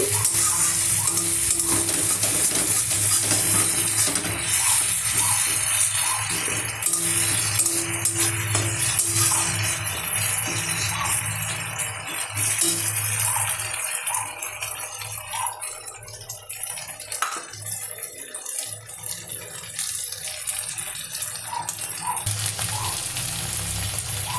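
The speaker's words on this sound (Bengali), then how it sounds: "এই যে কষানো হচ্ছে মশলাটা, দিয়ে দিয়েছি টমেটো আর কাঁচা লঙ্কা 5টা দিয়ে দিয়েছি" Spice paste with tomato and five green chillies being sautéed in a pan, a steady loud sizzle and frying hiss running throughout with occasional stirring rattles, no talk.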